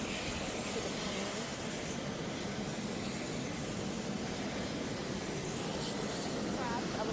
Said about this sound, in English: Air Force One is getting closer to its stop.